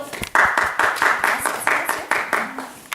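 A small audience at a rehearsal claps in a brief, rhythmic burst, a few hands beating close and loud in a fairly regular pattern.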